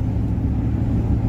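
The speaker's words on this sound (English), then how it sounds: "I was maybe expecting a little bit more of this V8 in terms of sound." A 1960s Cadillac V8 rumbles steadily from inside the car while driving, a low, continuous engine drone with no talking over it.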